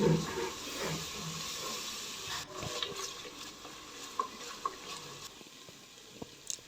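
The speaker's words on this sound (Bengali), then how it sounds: "এখন এগুলো কষিয়ে নিচ্ছি ভালো করে" Ginger, garlic and onion paste sautéed in oil for a country chicken curry, a low steady sizzle under intermittent stirring and scraping with a few sharp clicks, close and moderately quiet.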